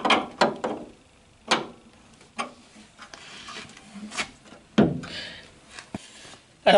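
Short metallic ratcheting clicks and clunks as a part is tightened lightly with a wrench, coming in separate bursts with quiet gaps between, close by.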